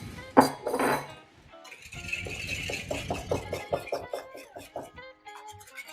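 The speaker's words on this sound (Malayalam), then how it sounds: "നല്ലപോലെ ഇതിനെ ഇളക്കി യോജിപ്പിക്കണം, മുട്ടയും ഷുഗറും" A spoon beats eggs and sugar together in a bowl, producing a quick run of rhythmic clinks against the side after a brief cough-like noise at the start.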